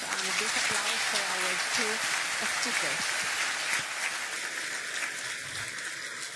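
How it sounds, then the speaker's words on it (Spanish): A crowd applauds steadily at a security and defense symposium panel, a dense wash of clapping that tapers slightly toward the end, with a few voices faintly audible beneath. "Le pido un fuerte aplauso a los dos expositores."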